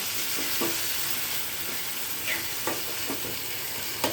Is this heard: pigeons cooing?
no